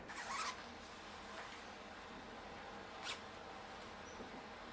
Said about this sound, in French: On ferme le zip.